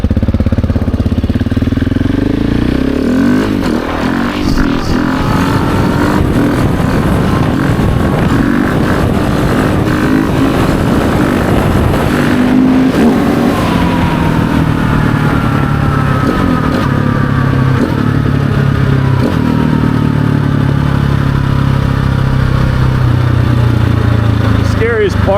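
A 2024 GasGas ES700 motorcycle with a full titanium exhaust roars loudly and continuously from the rider's position, its engine note rising and falling under heavy wind buffeting.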